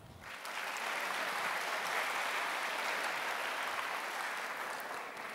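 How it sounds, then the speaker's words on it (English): At a Grade 6 graduation ceremony in a school hall at Philippines International School Qatar, an audience gives sustained, even applause, many hands clapping loudly and steadily throughout. "Another round of applause, please."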